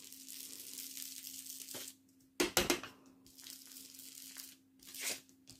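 Paper tearing during card-making for a birth announcement, a few short sharp rips close up, separated by quiet handling sounds over a faint steady hum.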